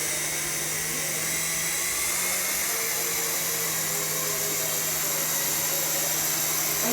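A small RC helicopter's rotor spinning steadily up close, giving a continuous high-pitched whine and whir with a constant rush of blown air and no pauses.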